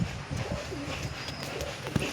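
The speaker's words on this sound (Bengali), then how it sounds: "এটা নর পায়রা, এগুলো শখ করানোর জন্য।" A pair of pigeons, including a male kept as a hobby bird, giving soft low coos close by over a faint background hiss.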